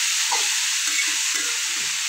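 Sliced bitter gourd and onion fry together in a pan with a steady, close, loud sizzle and faint stirring scrapes, no voices.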